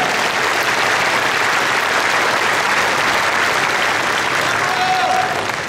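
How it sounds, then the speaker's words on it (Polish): Loud, dense applause from a large crowd fills a newly rebuilt sports and entertainment hall in Olsztyn at its opening ceremony. The clapping stays steady and unbroken throughout, with no talk over it. "Wielkie brawa, wielkie gratulacje."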